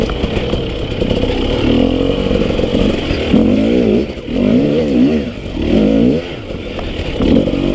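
A Husqvarna TE250i dirt bike rides through the desert, its engine droning loudly and close with repeated rising and falling revs as it works over rough ground.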